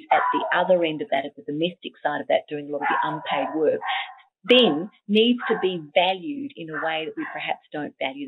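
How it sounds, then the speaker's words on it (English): A pet dog barks off to the side at a postman's arrival during an online talk on gender equality, with sharp barks breaking in under a woman's continuous speech. "I'm sorry if you can hear my dog barking,"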